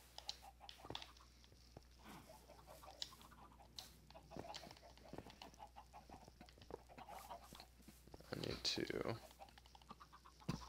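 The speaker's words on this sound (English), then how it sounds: "These baby chickens are a little nervous." Baby chickens in a video game cluck and peep in scattered, faint bursts amid soft background noise, with a louder flurry near the end while a person talks briefly.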